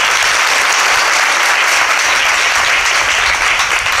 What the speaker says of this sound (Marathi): याला जोरदार टाळ्या होऊन जाऊ दे मामांसाठी